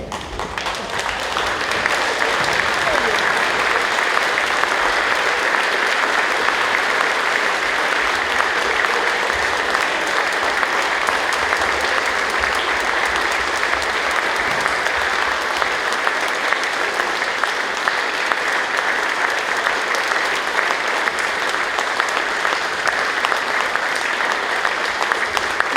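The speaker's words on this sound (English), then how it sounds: "please rise and give these Hall of Famers one last standing ovation" A wrestling crowd at the IPW New Zealand Grave Consequences 2024 show gives Hall of Fame inductees a standing ovation, a dense, steady roar of clapping that lasts nearly half a minute, loud and unbroken with no clear voices.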